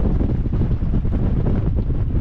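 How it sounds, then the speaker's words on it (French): Strong outdoor wind buffeting the microphone on a valley trail near Eugi, a dense, continuous low roar with no pauses or voices. "Et là je suis en plein vent."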